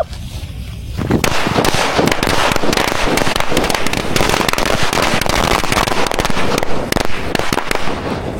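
After a quiet second, a loud, dense run of country firecracker (nattu vedi) bangs and crackles goes on without a break, close by.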